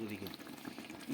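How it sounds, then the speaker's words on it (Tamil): A biryani mixture simmers in a pot, a soft, steady bubbling heard close up for about a second with a low voice in the background. "இந்த கொதிக்குதே."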